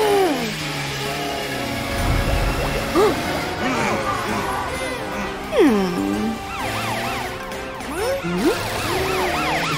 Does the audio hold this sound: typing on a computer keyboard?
no